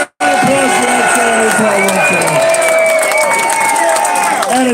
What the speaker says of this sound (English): a big round of applause is much needed for X-Ray and his hard work today